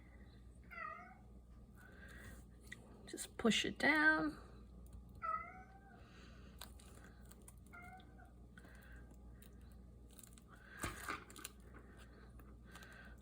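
A cat meows several times, short rising calls spread throughout, while a person talks quietly nearby.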